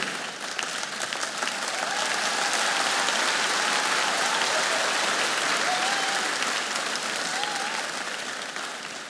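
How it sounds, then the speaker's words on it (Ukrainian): Steady, dense applause from a comedy show audience at a League of Laughter stand-up performance, sustained and loud for the whole stretch with a light crowd murmur underneath. "Ваші оплески"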